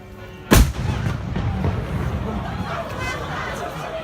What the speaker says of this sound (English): there's going to be a cannon that's going to go off in a minute.